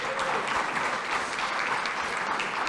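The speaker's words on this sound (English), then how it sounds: "Can we give him a round of applause?" A round of applause from an audience at a talk, many hands clapping steadily at moderate volume for a few seconds.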